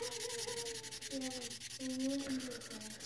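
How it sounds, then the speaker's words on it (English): Rubbing a knife handle scale with 2000 grit sandpaper makes a steady scratchy sanding hiss with shifting rubbing tones, close up and alone with no talk. "rub this with some 2000 grit sandpaper that I have."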